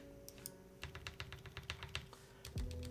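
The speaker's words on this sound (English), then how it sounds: "clicking a whole bunch of buttons here." Clicky keystrokes on a QK101 mechanical keyboard with FR4 plate, a rapid irregular burst of key presses close up, with no voices.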